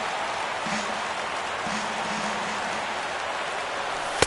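Crowd noise in the baseball video game MLB The Show 17, rising for a full 3-2 count: a steady, hissing roar of cheering spectators with faint tonal calls drifting through, continuous and fairly distant.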